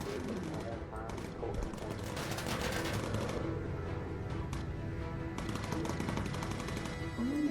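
Rapid automatic machine-gun fire from a WWII bomber's gunners in the game Bomber Crew, a dense continuous rattle of shots with in-game voices over it.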